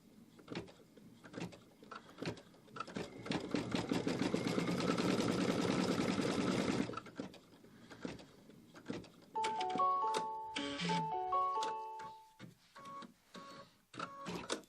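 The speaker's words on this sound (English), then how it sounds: "Let's put the foot down and stitch out the star." An embroidery machine stitching out a gold star runs in a fast, dense mechanical whir with rapid needle ticking, then gives way to shorter bursts and electronic beeps, close and clear.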